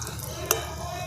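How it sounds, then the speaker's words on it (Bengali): Snacks such as singara or kachori fry in hot oil, giving a steady close sizzle with a single sharp clink of a utensil midway. "বাকি যেগুলো আছে সেগুলোকেও আমি একটা একটা করে ভেজে নিচ্ছি"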